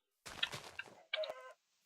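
A chicken in the Minecraft video game clucks in two short, quiet bursts separated by a brief pause, with a faint third sound cut off at the end.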